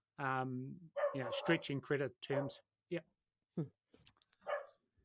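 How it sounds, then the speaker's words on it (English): Several dogs bark and yip in short bursts close by, mixed in with someone talking. "Excuse my dog. That's the dogs."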